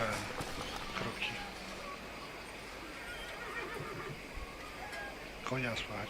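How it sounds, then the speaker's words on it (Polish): Horse neighing and whinnying with some hoof clatter in the Western video game Call of Juarez, the whinnies standing out near the start and again near the end over a busy game soundscape while a voice talks. "Konia słychać, no."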